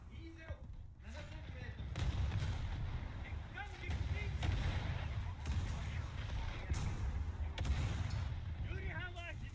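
Naval gunfire in War Thunder rolls through a constant low rumble of booming shots and distant impacts, while a voice talks over it at intervals.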